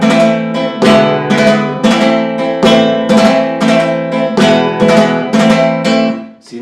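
Flamenco guitar playing sevillanas with clean, forceful rasgueo strums, a steady run of loud, bright chords close up, ringing out and fading at the end with no voices.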